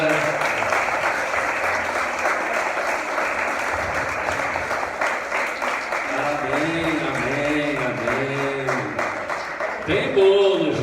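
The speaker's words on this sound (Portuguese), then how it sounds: "Aplauda o Senhor" Church congregation applauding during a Sunday communion and deacon ordination service, steady broadband clapping throughout with voices and singing-like tones rising underneath toward the end.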